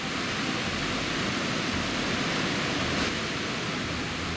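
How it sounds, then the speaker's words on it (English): The Krka River waterfalls in Krka National Park send up a constant, even roar of rushing water, broad and unbroken from start to finish with no voices over it. "as we visit Krka National Park and its beautiful waterfalls along the Krka River"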